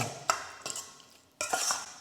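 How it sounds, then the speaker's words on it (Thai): Canned fish spicy salad being tossed in a bowl, a few short scraping and clinking stir strokes with a utensil, close and fairly quiet, no talk. "คลุกให้เข้ากันค่ะ"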